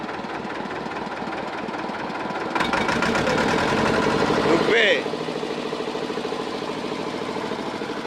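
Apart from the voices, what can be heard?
small trawler boat engine running on Pasur river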